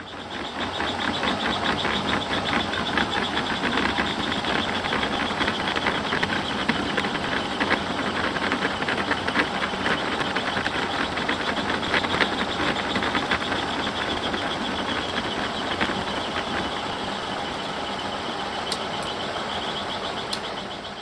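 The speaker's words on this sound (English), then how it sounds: "So we'll just keep cutting gear teeth." Milling machine cutting helical gear teeth with a servo dividing head: a continuous loud mechanical whir and grind with steady motor hum and fine rapid chatter, close and unbroken, with no talk.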